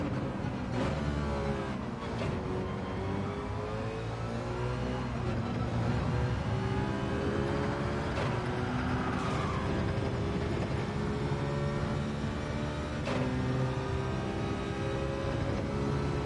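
Peugeot car engine in a racing video game, a steady mid-pitched drone with rising and falling revs as the car accelerates and shifts, continuous and fairly loud throughout with no talk.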